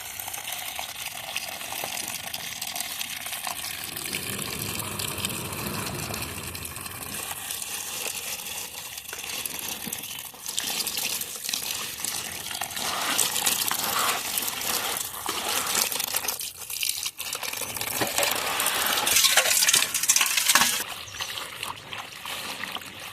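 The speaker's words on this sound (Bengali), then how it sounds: "ফাঁকে আমি কচু শাকগুলো ধুয়ে উঠিয়ে দিচ্ছি" Taro leaves are washed in water, with trickling, splashing and rustling of wet greens being handled, continuous and close, growing busier and louder toward the end.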